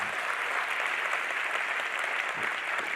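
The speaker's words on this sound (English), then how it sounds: "Can we have a round of applause for that?" Steady, moderately loud applause fills an auditorium at an astronomy general assembly, an even wash of many hands clapping without pause and no voices on top.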